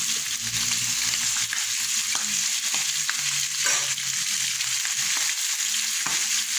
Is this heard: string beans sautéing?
yes